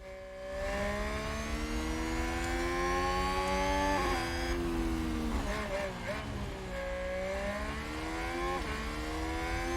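A Formula 1 car engine in the racing game F1 Manager 2022 holds a high, whining note that rises and dips through gear changes, steady at moderate level, with a voice talking over it.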